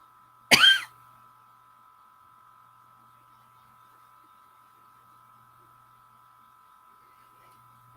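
A single sharp cough sounds near the start, then near-silence with a faint steady hum, and a brief sound at the very end.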